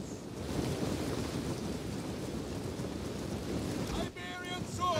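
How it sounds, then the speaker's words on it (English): Steady rain over a wet settlement in Total War: Rome II, a dense even hiss that carries through the whole stretch with a brief dip near the end, where a few faint tonal game sounds come in. "and it's raining."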